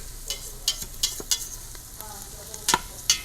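Two cups of rice tossed and cooking in oil and butter for lobster risotto, a low frying sizzle broken by several crisp stirring scrapes at irregular intervals.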